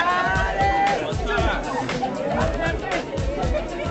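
A lively crowd of many voices chatters and babbles up close at a Washington DC screening of the film Diary of a Tired Black Man, a continuous hubbub with no single voice standing out.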